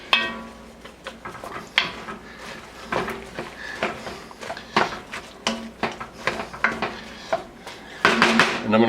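Mushrooms, onions and garlic are tipped into a cooking pot, producing a run of clattering metal knocks and scrapes against the pan, uneven and close, with a busier rattle at the end.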